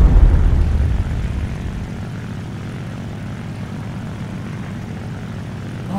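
Bomber aircraft in War Thunder, a steady propeller engine drone that starts loud, eases down after the first second and then holds a constant low rumble with no talk.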